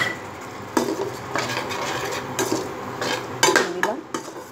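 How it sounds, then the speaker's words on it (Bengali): A utensil scrapes and stirs in a pan as rui fish curry is sautéed, with irregular clinks and scraping strokes over a soft steady sizzle, close up and without talk. "এবার আমি আর আবারও কষিয়ে নেব"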